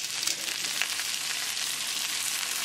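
Breaded chicken thighs fry steadily in a pan over a medium-low gas flame, a dense, even sizzle that holds close and constant with no one talking.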